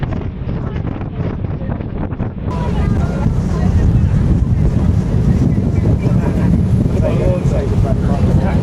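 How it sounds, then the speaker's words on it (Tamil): Strong wind buffets the microphone on a ferry in a loud, continuous rush, with water and engine noise underneath and occasional voices. "காற்று விசு விசுன்னு அடிக்குது."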